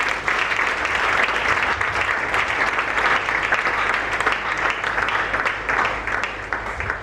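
A church congregation of the Eglise du Réveil du Congo applauding at a plenary service, dense sustained clapping from a large crowd that holds steady throughout with no talk over it.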